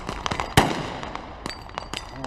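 A single sharp gunshot cracks out from a balcony during a Rwandan police SWAT team demonstration, standing out against a busy background of smaller pops and crowd noise.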